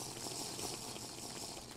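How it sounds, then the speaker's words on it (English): Water being filled up in the Minecraft video game, a continuous bubbling, gurgling liquid sound heard alone at moderate volume. "Let's fill up on some water here."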